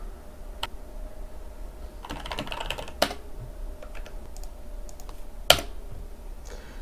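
Typing on a computer keyboard to enter a search term in the Omnisearch plugin for iDempiere, heard as sparse, faint keystrokes with a few sharper isolated clicks over a steady low background hum, no voices.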